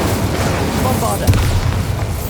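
A Bombarda explosion spell goes off in a video game: a loud, booming blast with a sustained low rumble, overlaid with shouting voices throughout.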